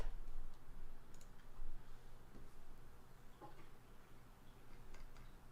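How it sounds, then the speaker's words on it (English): Loud computer keyboard typing sounds close by, a quick patter of clicky keystrokes in uneven bursts with no voices over it. "Your keyboard's loud?"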